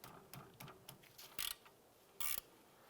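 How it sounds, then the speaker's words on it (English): A 14mm ratchet clicks in short, quiet bursts while loosening the upper rear brake caliper slide bolt on a 2006-2011 Cadillac DTS, with two sharper metallic scrapes standing out among the ticks. "We're going to use a 14mm wrench or ratchet, and we're going to go ahead and loosen this upper caliper slide bolt."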